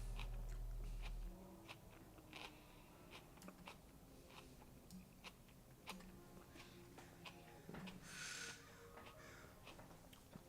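Close, wet chewing and biting on food, an irregular run of soft crunches and mouth clicks over a steady low background hum, with no speech.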